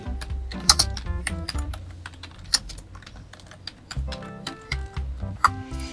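Computer keyboard typing runs steadily through the whole stretch, a quick close-up patter of keystrokes with irregular rhythm and a few sharper clacks standing out, no voices over it.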